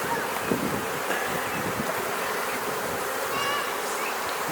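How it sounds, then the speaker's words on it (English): Honeybees at an open hive during queen installation hum in a steady, dense buzz close to the microphone, continuous and fairly loud, with a faint breeze underneath. "the bees are getting a little edgy"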